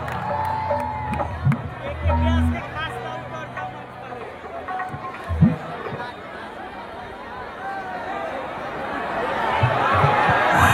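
A large outdoor crowd at a Bhojpuri music event at Buxar fort ground cheers and chatters, a swelling roar of voices and whoops that builds louder toward the end, with talk over it early on.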